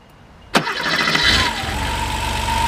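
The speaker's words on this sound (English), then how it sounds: "And so we're going to go ahead and crank this up and let you listen to it." A 1989 Porsche Carrera engine cranks with a sharp burst, then catches and settles into a steady, loud idle with a rising whine, close by and alone.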